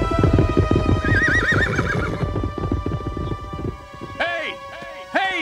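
A horse clip-clops in rapid hoofbeats, then gives several loud, close neighs and whinnies in succession, with a cartoon soundtrack hum beneath.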